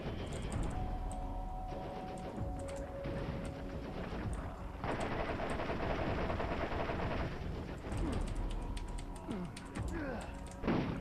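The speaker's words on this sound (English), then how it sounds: "Nine Toes is firing a fire elemental weapon" Rapid fire-elemental gunfire from the video game Borderlands crackles in dense bursts throughout, mixed with game effects and a steady backdrop of other game sound.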